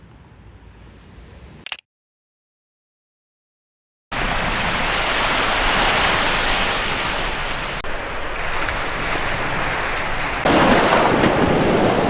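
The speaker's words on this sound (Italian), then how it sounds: "siamo appena arrivati fronte mare" Sea waves wash onto a beach in Tunisia near Sfax, a steady loud roar of surf with no voices. A short burst comes first, then a gap of silence, and the surf roar begins and holds, growing slightly louder toward the end.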